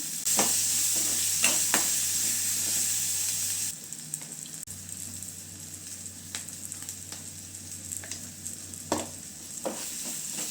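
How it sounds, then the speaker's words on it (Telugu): Ginger and chili paste fries in hot oil for a potato curry. The sizzle is loud and steady, then drops to a lower hiss after a few seconds, with occasional stirring clinks and scrapes and no speech. "ఇప్పుడు కొంచెము కొత్తిమీర అల్లం పేస్ట్ వేస్తున్నాను"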